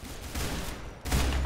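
Rapid pistol gunfire in the online shooter Arsenal, heard as a dense, loud burst of shots that pauses briefly and then resumes.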